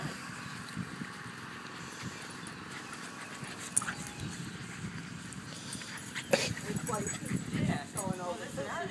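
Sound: dogs playing

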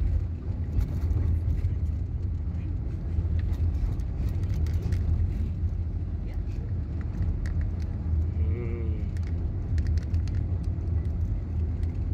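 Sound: large truck driving past on a road

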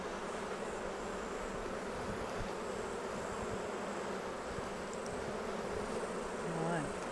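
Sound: honey bees buzzing around an open beehive

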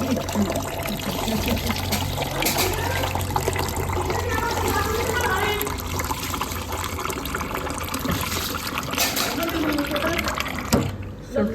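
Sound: water poured into cooking pot

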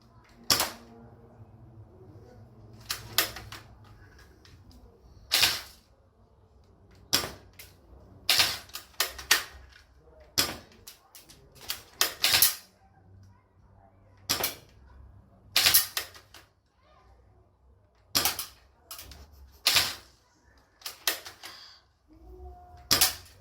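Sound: gunshots in a shooting contest

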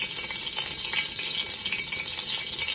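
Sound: stirring chicken with red food colour in a pan

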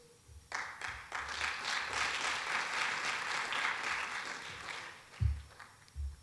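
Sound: audience applause at awards dinner

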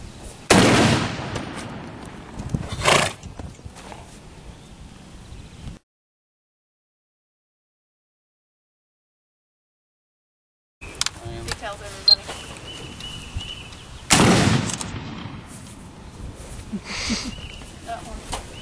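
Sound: gunshots

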